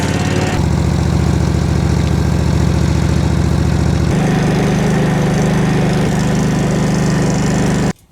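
A lawn fungicide application machine runs steadily on a lawn, a loud, continuous engine drone with a low throbbing rumble and a change in pitch partway through before cutting off at the end.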